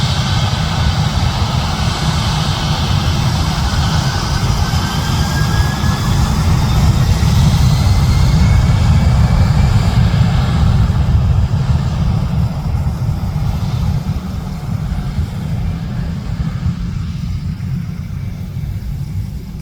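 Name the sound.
airplane taking off at Francisco Bangoy International Airport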